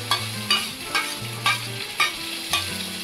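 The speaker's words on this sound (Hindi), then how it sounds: "इसे मैं गोल्डन ब्राउन होने तक फ्राई करूंगी।" Onion frying in a pan with cumin for an Indian aloo matar curry, a steady sizzle broken by regular scraping strokes of a spoon about every half second, close and fairly loud with no talk.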